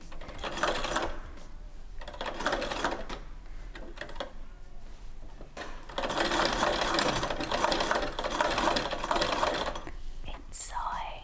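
A vintage sewing machine runs in close, sustained bursts of rapid mechanical stitching, pausing briefly between runs, with faint quiet talk underneath.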